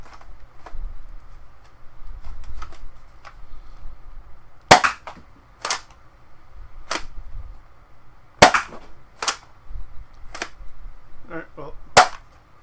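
Nerf Rival Saturn blaster firing, a series of sharp, loud, snapping shots spaced a second or so apart, close by, with a faint mechanical hum and light background noise between them.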